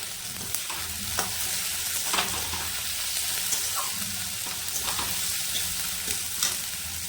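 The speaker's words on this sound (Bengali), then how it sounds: "তার সাথে আমি অ্যাড করছি কাঁচা লঙ্কা" Green chilies sizzle steadily in a pan with whole cumin and deep-browned onions, a dense continuous frying crackle broken by a few light stirring scrapes, close and alone without voices.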